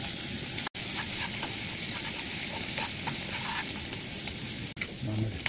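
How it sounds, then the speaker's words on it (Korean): Garlic and shrimp fry in butter at a campsite on Seongmodo, Ganghwa, for a spaghetti dish. The sizzle is steady and dense, with a faint voice now and then and brief stirring clicks. "마늘, 새우, 버터구이도 하고"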